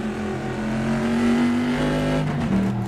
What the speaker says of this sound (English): Listen to that screaming engine.